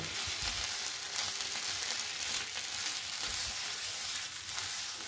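Mashed taro (mankochu) paste is stirred in a pan to dry it, producing a soft, steady sizzle with low scraping thumps from the spoon, fairly quiet and without voices.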